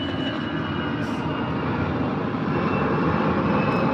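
An airplane flies overhead with a steady, loud broadband roar that holds for the whole stretch, with no voices.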